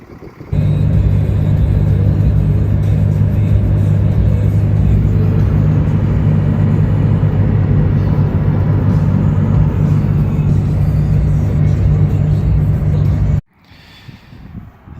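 Truck towing a homemade bugout wagon heard from inside the cab, a loud, steady engine drone and road rumble for about thirteen seconds that cuts off abruptly near the end.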